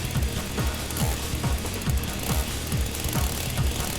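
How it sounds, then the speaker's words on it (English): A chainsaw motor chugs nearby in a fast, even throbbing rhythm, loud and continuous with no voices over it. "The maid closed in swiftly and swung the chainsaw toward the boy."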